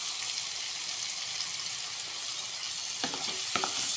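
Prawns sauté in a pan for a prawn and drumstick theeyal, giving a steady, close sizzle throughout, with a few scraping stirs near the end.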